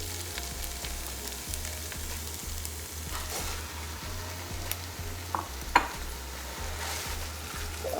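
Minced meat with onion, garlic and ginger frying in a pan, a steady close sizzle broken by soft scrapes and stirring knocks, with no voices.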